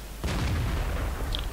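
A tank cannon fires in World of Tanks with a sudden loud boom, followed by a long rumbling roar that fills the rest of the moment, heard alone without talk.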